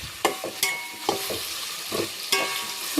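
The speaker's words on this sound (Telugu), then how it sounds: "కొంచెం ఇప్పుడే మగ్గుతున్నాయి ఫ్రెండ్స్." Vegetable pieces softening in a pan for hotel-style sambar, with a spoon stirring in several scraping strokes over a gentle continuous sizzle, close and moderately loud, no talking.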